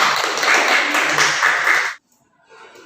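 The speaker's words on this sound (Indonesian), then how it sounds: "Tepuk tangan buat teman-teman" Students clap together in a classroom, a loud burst of close applause lasting about two seconds before stopping abruptly, followed by faint room sound.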